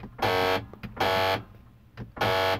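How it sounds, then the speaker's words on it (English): A rear right sliding door lock actuator on a Dodge Grand Caravan makes a harsh electric buzzing on unlock, three short buzzes in a row with quiet gaps between, heard up close. "that is the rear right side sliding door lock actuator"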